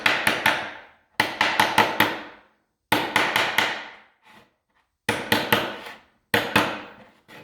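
A hammer taps metal paint can lids shut, landing quick bursts of three to five sharp close knocks separated by short silences, with a soft faint knock in one of the gaps.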